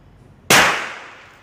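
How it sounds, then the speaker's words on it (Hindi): A Manav Tiger Uzi air pistol fires a single shot: one loud, sharp, close crack that rings out and decays over about a second, with no talking. "अब मैं आपको इसका फायर दिखाता हूँ"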